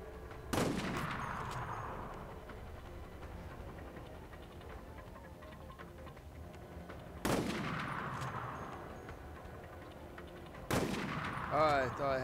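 Gunfire in Resident Evil: Operation Raccoon City, three loud, sharp shots spaced several seconds apart, each with a long fading echo.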